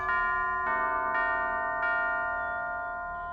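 Door-opening bell sequence from the video game Alice: four clear, loud bell strikes spaced roughly half a second apart, each ringing on and slowly decaying.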